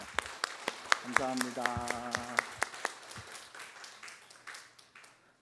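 A church congregation at a family worship service claps to encourage its teachers with steady, rhythmic claps, while a voice speaks briefly over the opening seconds.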